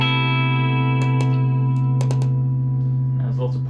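An electric guitar played through a digital amp and cabinet rig holds a steady, distorted, humming note. A voice talks faintly over it in short bursts.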